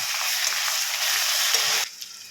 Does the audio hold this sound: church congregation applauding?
no